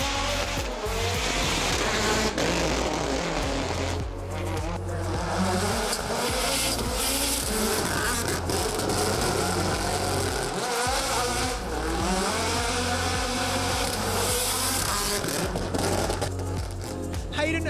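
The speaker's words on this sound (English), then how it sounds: "Back again with the AP4 spec Hyundai i20 rally car, serving up plenty of sideways entertainment." Hayden Paddon's AP4-spec Hyundai i20 rally car driving sideways at the Waimate 50 motorsport festival, its engine revving hard with tire squeal, loud and continuous, with speech faintly under it.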